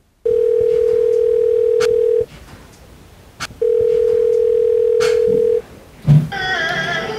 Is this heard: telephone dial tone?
yes